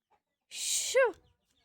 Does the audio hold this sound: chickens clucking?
yes